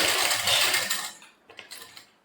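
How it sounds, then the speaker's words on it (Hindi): A sewing machine stitches suit fabric, running in a loud steady whir for about a second, then stopping and restarting in a few shorter, softer bursts. "बूट नीचे इस तरीके से अब हम सिलाई लगाएंगे"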